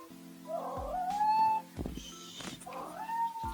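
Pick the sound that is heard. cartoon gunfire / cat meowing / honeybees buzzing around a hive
cat meowing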